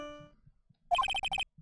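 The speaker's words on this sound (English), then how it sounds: "What kind of ringtone is that?" Mobile phone ringtone from the Phoenix Wright: Ace Attorney - Trials and Tribulations video game: a quick run of six or seven bright electronic beeps lasting about half a second, following a fading tone.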